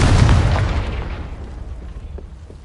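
A loud, booming blast from the Confringo fire spell in the video game Hogwarts Legacy, with a heavy low rumble up front that decays over about two seconds into a fading tail.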